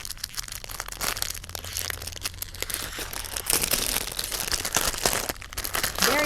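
Cutting dies are pulled from taped packaging, with close, continuous crinkling, crumpling and tearing of plastic and tape.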